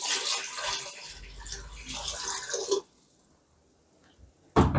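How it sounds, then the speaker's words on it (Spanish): Water is poured into a stainless steel pot for a sausage and potato dish in green sauce, a busy splashing pour lasting a few seconds before it stops short, followed by quiet and a brief clank. "Voy a echarle otras 2 tazas de agua."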